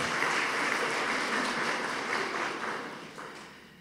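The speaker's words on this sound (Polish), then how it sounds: "Gorące brawa dla Kuby Szukiela." A school year-end ceremony audience in Starachowice applauds in a dense, steady wash of clapping that holds level and then tapers slightly toward the end.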